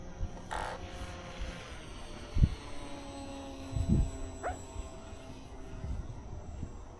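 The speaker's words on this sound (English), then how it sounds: "you can see the plane drifting to the right in the wind" An FMS Ranger 1220mm radio-controlled plane on a 3S 2200 battery flies in windy conditions, its small motor drone steady and moderately distant against wind buffeting and a few low thumps.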